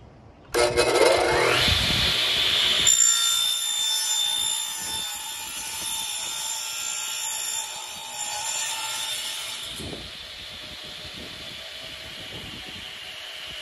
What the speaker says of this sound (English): now I'm going to cut out that side panel.